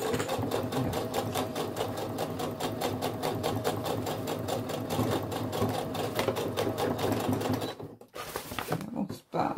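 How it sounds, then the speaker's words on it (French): A sewing machine stitches the side of a fabric weekend bag in a steady, rapid mechanical run. It stops near the end, leaving brief quiet and a few handling noises. "Je vais coudre l'autre côté."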